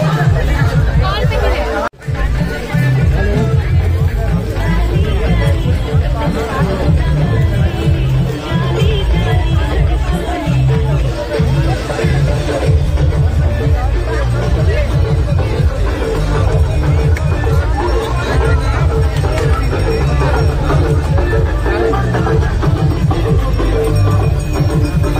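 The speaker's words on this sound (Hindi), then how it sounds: "बहुत ही भारी भरकम मेला लगा हुआ है" Dense crowd hubbub fills a big, packed fair where stalls sell everything from food to toys: continuous loud babble of many voices and chatter, close and enveloping, with no single voice standing out.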